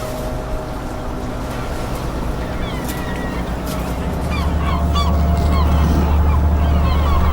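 Gulls call around a Norwegian fishing boat as skrei fish heads are thrown overboard, with scattered squawks over a constant engine rumble that grows louder.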